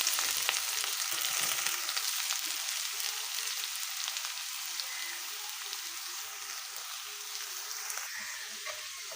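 Chopped onions frying in oil in a wok for a chicken roll filling, a steady bright sizzle that runs the whole time at close range with no talk over it.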